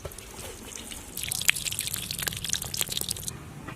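Chicken legs rinsed again in water in a village setting: steady drips, splashes and wet handling close by, with no voices.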